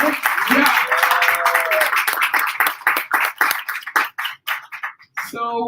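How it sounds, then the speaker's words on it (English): A small group at a restaurant rum tasting claps enthusiastically, the clapping loosening into scattered claps before a voice speaks briefly at the end. "I need a big applause for all of you"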